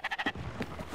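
A sheep in the video game Spiritfarer bleats in a quick run of four or five short, nasal calls, close and clear, then trails off into soft background noise.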